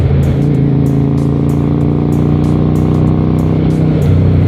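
A 1992 Honda Shadow 400 cruiser motorcycle exhaust holds a steady, deep, throbbing rumble close by, loud and unbroken for the whole stretch, with no talk over it.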